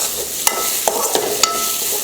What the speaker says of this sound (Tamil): இந்த அளவுக்கு காயை நல்லா வதக்கிக்கணும்